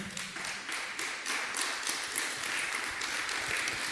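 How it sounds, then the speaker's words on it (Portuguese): A congregation applauds during a church service, steady dense clapping from many hands filling the room for several seconds without a break. "Dê um aplauso a Deus para espantar o sono."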